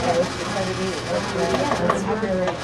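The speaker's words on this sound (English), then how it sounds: "I'm going to put it in the food processor" A food processor purees greens with a dense, continuous whirring grind, loud and close throughout, with a voice talking over the motor.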